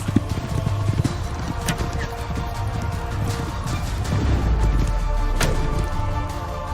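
Horses gallop in the Age of Empires IV video game, with a continuous rumble of many hooves and scattered sharp clatters at a steady moderate level, mixed with low battlefield noise and no voices.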